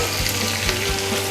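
Potatoes, beans, carrots and peas frying in a pan for a vegetable biryani, a steady close sizzle with faint stirring throughout, no talk.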